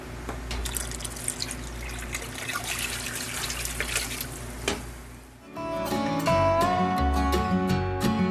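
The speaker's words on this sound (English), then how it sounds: "we got our pickles in a water bath, and we're going to give them a good boiling bath" Bubbling, simmering water bath boiling jars of dill pickles, with dripping and rattling, then a busier stretch of clinking and sizzling bubbles; no talking.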